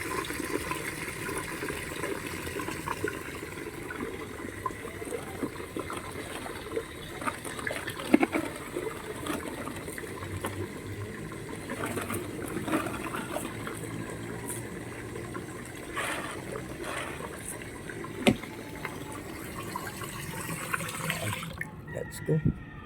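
Fresh water runs steadily from a tap for over twenty seconds, a constant splashing hiss at moderate distance with a few clunks, and a person talks faintly over it.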